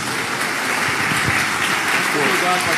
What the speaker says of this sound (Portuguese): pedir que a igreja aplauda Jesus